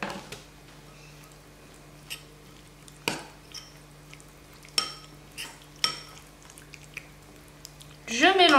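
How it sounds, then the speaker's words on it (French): A spoon works through homemade tuna rillettes with shallot in a bowl, giving soft squishy scrapes and a few sharp clinks against the bowl, with a louder scrape at the very end. "Je mélange bien tout."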